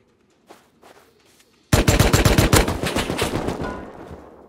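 AK rifle fire in an online survival game raid: a long, loud burst of rapid automatic shots erupts after a quieter opening with a few distant pops, continuing densely to the end.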